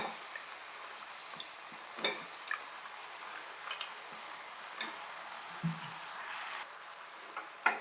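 Eggplant, drumstick and potato pieces stirred in a pan with a light steady sizzle, scattered soft scrapes and clicks of the spoon against the pan across several seconds.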